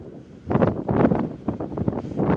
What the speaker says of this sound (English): It's windy here too. Oof. That is cold wind.